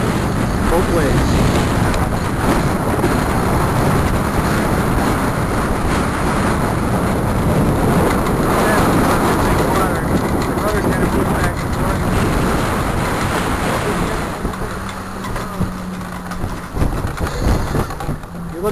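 Strong wind rushing and water washing against the hull of a sailboat under way in 20-knot winds, a loud continuous broadband roar that eases slightly near the end.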